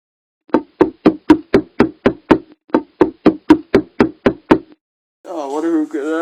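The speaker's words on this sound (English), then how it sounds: "I can't wait to knock Dr. Beanson's door." A door is rapped in two long, rhythmic runs of loud, close, evenly spaced knocks, followed by a voice speaking once the knocking stops.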